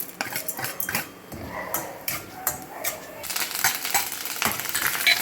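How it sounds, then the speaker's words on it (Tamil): Chana dal and urad dal with popped mustard seeds frying in hot oil in a kadai, with a steady close sizzle broken by repeated metallic clinks and scrapes of a spoon against the pan. "ஒரு கடாயில் எண்ணெய் ஊற்றி எண்ணெய் காஞ்ச பிறகு கடுகு போட்டு கடுகு பொரிஞ்சிருச்சு இப்போ கடலப்பருப்பு உளுத்தம்பருப்பு போட்டுக்கிறோம்"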